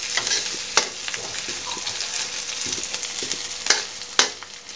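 Chili and garlic stir-fry in a hot pan, a steady close sizzle broken by several sharp scraping strokes of a spatula against the metal, with no talk.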